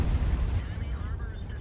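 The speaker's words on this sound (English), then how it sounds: "There's the artillery." Heavy artillery shell impacts in World of Tanks, fired by a Grille 15 tank destroyer, land as a loud, dense low rumbling boom that rolls and fades over a second or so, with a voice talking over it.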